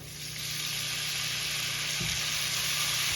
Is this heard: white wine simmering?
yes